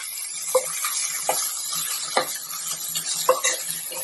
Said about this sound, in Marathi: हा एक वाटी तांदूळ आहे छान परतवून घ्या हिरव्या मसाल्यावर